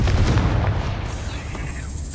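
A Confringo blast spell goes off in Hogwarts Legacy: one loud, close, booming explosion that rolls out and fades over about two seconds.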